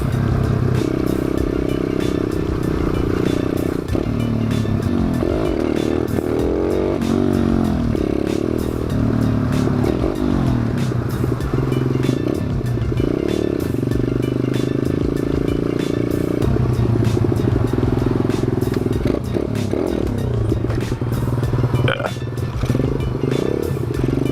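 Thumpstar 140cc dirt bike engine running and revving steadily throughout during wheelie practice, a loud continuous motor drone with rising and falling pitch, some rattling clatter, and wind noise close to the rider's helmet-mounted camera.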